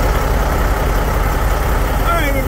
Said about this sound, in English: The truck's running, circulating coolant.